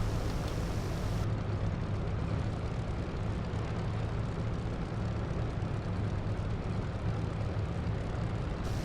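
A propeller airplane engine runs steadily in a flight simulator while taxiing, a continuous loud rumbling drone with no talk.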